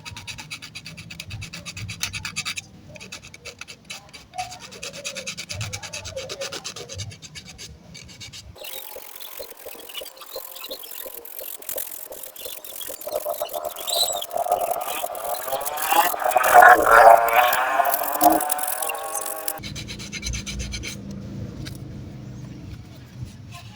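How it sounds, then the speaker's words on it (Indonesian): Light, close-up scratching of sandpaper worked back and forth by hand over dried G glue, soft and uneven strokes, growing a little louder in the middle. "Setelah kering, lemnya kita amplas tipis-tipis"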